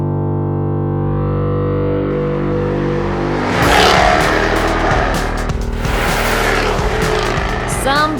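A Jaguar F-Type Coupe's engine revs hard through its quad exhaust pipes, starting as a steady idle hum, then surging into a loud, rasping roar with sharp crackles and pops as the throttle blips.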